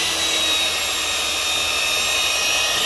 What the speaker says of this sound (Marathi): तर तुम्ही बघितलं ड्रिल करताना आता कसं आहे, माती जी आहे ती खालनावरती बाहेर येते